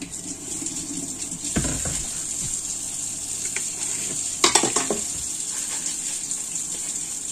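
Fish frying in a pan in a home kitchen, a steady bright sizzle throughout with a couple of clattering stirs or knocks, close and moderately loud, no talk.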